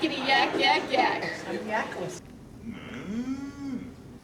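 A person speaks, then a voice imitates a cow's moo with a long, drawn-out, falling call.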